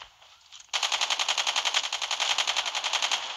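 Automatic gunfire in the Call of Duty Mobile video game, starting after a brief quiet moment and then running as one fast, sustained burst of rapid, evenly spaced shots, loud and close.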